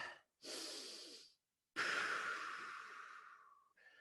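Close, audible breaths drawn in through the nose and pushed out, in slow separate rounds of about a second each with short pauses between, during a workout cool-down.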